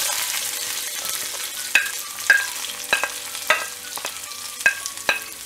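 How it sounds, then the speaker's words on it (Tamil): Curry leaves and onions sizzle in a pan for a chow chow kootu, under a steady hiss broken by about seven sharp spatula clicks and scrapes against the pan. "வெங்காயம் ஆட் பண்ணிட்டு நல்லா ஃப்ரை பண்ணி விடணும்"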